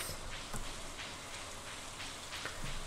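Steady rain falls in the farming game Stardew Valley, a dense even hiss of drops with a few slightly louder patters, alone with no talk.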